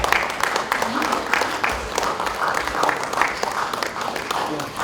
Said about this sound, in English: a huge round of applause for them as they take their seats